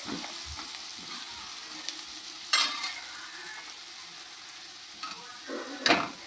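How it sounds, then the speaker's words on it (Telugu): Chopped ivy gourd (tindora) frying in a pan, with a low steady sizzle and two sharp bursts of scraping as it is stirred, close and fairly quiet, with no talk. "ఇప్పుడైతే కట్ చేసి పెట్టిన దొండకాయలు అయితే ఫ్రైలో వేసుకోవాలి"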